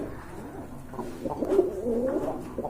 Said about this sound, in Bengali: কোয়ালিটি সম্পন্ন বোম্বাই কবুতর দেখতে পাচ্ছেন